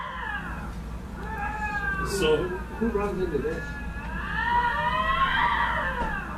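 Two male lynx fighting over territory, heard from a television: drawn-out, wavering yowls and caterwauls that rise and fall continuously, with people talking over them.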